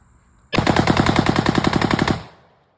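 An airsoft AR pistol bump-fired for a twenty-round burst: a rapid, even string of sharp cracks lasting about a second and a half, loud and close, cutting off abruptly and then fading.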